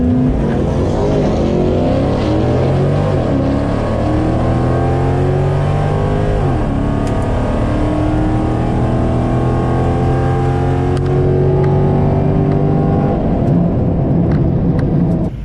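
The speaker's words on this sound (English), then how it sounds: "So my first pass went well." A bracket-class drag racing car makes its first qualifying pass at a drag strip in Rockingham, NC, its engine loud and close, revving hard through rising gear sweeps with a brief shift dip midway, steady and continuous throughout.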